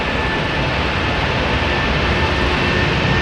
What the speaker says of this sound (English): A330 Delta, going to New York JFK, flight 49, A330neo